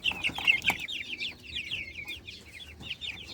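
Rhode Island, Brahma and Silkie chickens cluck and chirp repeatedly in a backyard coop, close and fairly loud, with a few short bursts of fowl calls and no talk.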